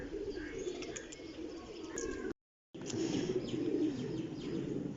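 Pigeons coo in low, repeated burbling phrases at moderate distance over a faint background hiss, with a short silent gap partway through.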